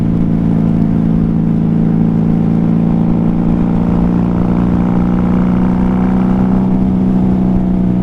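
A 1994 Honda Magna VF750C motorcycle with stock pipes and drilled-out baffles rumbles steadily and loud, a deep continuous engine drone with no talk over it.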